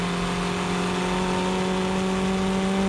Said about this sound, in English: When I ride the brakes like I did with the S14, this happens.